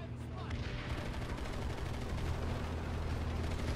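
Planetside 2 game gunfire rattles in continuous rapid bursts amid dense battle noise, steady and moderately loud throughout.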